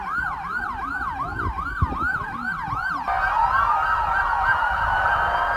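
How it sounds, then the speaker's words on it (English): Police car sirens wail loudly and close by, cycling in a rapid up-and-down pattern. More sirens soon layer over each other into a dense overlapping wail. "So you can hear those police cars closing in pretty quickly."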